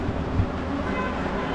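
A train at Sangameshwar railway station in Konkan, heard as a steady low rumble and broadband wash throughout, close and fairly loud, with no clear talk.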